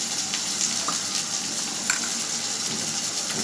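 Chicken masala sizzling steadily in a pan with tomato, turmeric, salt and cumin powder, a constant close frying hiss with faint stirring clicks and no voices.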